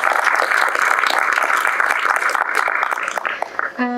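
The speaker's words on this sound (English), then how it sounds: "If we could give our youth ambassadors one more big round of applause" An audience at a Korea-US friendship dinner gives youth ambassadors a steady round of applause, dense clapping that fades near the end as a voice comes in.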